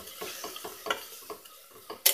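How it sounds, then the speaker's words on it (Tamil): Spices fry with tomato and onion in a pan, heard as a series of quick rhythmic stirring scrapes over a soft sizzle, ending with a sharper metallic clink. "கொஞ்சம் ஃப்ரை ஆகட்டும்."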